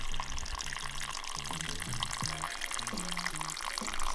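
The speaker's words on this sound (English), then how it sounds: "all you can hear is the water from the glaciers that have melted running down the mountain" Glacier meltwater runs down a mountainside in the Dolomites, Italy, a steady broadband rush and trickle that continues evenly throughout, with low tonal hums beneath.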